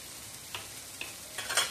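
Garlic hitting a hot pan while a scallopini sauce with mushrooms is being prepared, giving a soft steady sizzle with a few brief stirring scrapes and a brighter frying burst near the end, close and quiet.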